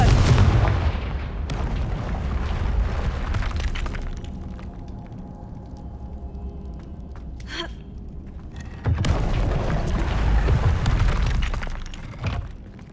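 Confringo explosive spell cast in the Hogwarts Legacy video game, heard as booming blasts and crackling impacts that open loudly, fade into a quieter lull with a sharp crack, then erupt again with heavy rumbling.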